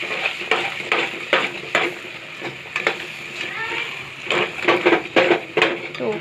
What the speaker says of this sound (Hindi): मटर भी मैंने डाल दी है और अब मैं इसको थोड़ी देर ऐसे ही पकाऊंगी